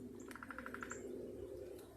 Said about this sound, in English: Got a woodpecker over here.